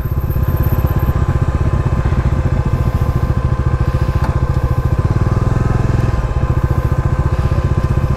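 A Bajaj Dominar 400 BS7 motorcycle engine running on a road trip, a loud, close, steady rapid thumping drone that holds even for the whole stretch, with no talk over it.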